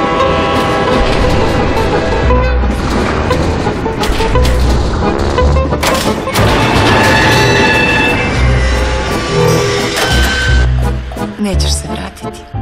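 A train roars past at close range with a loud horn blast and rattling wheels, layered with dramatic film-trailer music and sharp effects.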